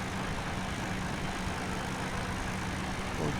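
A tractor engine in Farming Simulator 17 runs at a steady idle, a continuous low rumbling drone held at moderate level with no speech over it.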